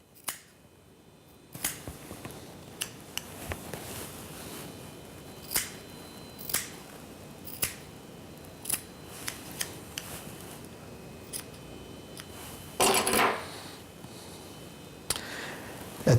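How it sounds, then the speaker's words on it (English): Fine scissors trim a striper toad fly during fly tying: sharp, close snips come at irregular intervals over quiet room tone, with a slightly longer rasping cut near the end. "Now using a finer pair of scissors, I'll start my final trimming."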